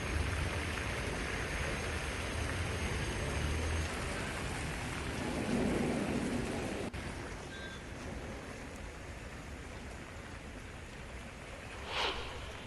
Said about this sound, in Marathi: संततधार पडत असलेला पाऊस